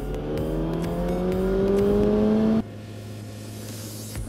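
A vehicle fitted with newly changed sprockets accelerates in third gear, its engine note climbing steadily and loudly for a few seconds before dropping abruptly to a lower, quieter drone.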